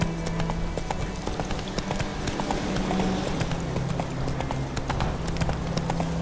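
A horse gallops in The Witcher 3, rapid rhythmic hoofbeats clip-clopping steadily and close over a low rumbling bed, continuous throughout with no pauses.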